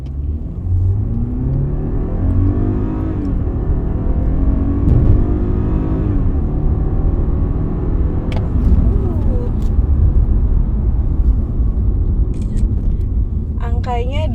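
A BMW 220i Coupe M Sport accelerating hard during a performance test, heard from inside the cabin as a steady, loud engine drone that rises in pitch through the gears, with a person talking over it throughout.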